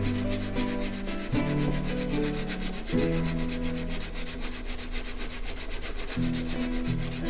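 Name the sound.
honing a Harbor Freight chisel bevel on sharpening plates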